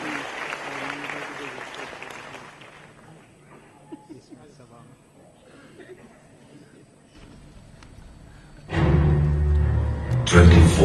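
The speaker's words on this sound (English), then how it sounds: "A big round of applause" Audience applause at a book release event erupts suddenly near the end, loud and dense after a stretch of quieter background sound and faint voices.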